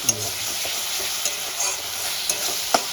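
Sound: ginger, garlic and green chili paste frying and stirred

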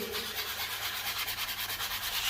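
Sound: hand sanding a wall corner with a sanding block

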